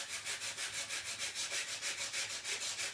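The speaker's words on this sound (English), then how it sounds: "So I think I want to do some more sanding" Rhythmic back-and-forth rasping of sandpaper rubbed against a painted surface, quick regular strokes repeating steadily throughout, close by with no voices.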